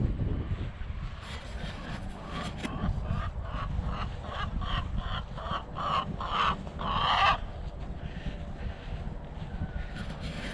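Chickens cluck repeatedly beside a coop next to an orchard on a compost-fed farm, a run of short rhythmic clucks building in the middle over faint outdoor background.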